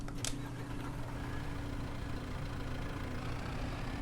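A Ford tractor on new tires with wheel weights idles on a homestead. Its engine holds a steady, low, even rumble throughout, after a short click near the start.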